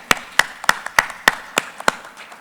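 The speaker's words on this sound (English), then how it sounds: "everyone give a round of applause for the moderators" Sharp, evenly spaced hand claps ring out about eight times in a steady rhythm as an event audience applauds its moderators, the claps crisp, close and standing alone without voices.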